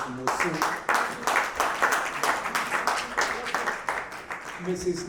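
An audience at a nursing school alumni anniversary event claps hands in appreciation, a rhythmic run of fairly quick claps, moderately loud, with a voice briefly heard near the start and end.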